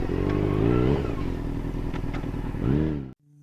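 A 2025 Sherco 300 SE Xtrem two-stroke enduro motorcycle engine running loud and close, its buzzing note rising and falling with throttle blips before cutting off abruptly.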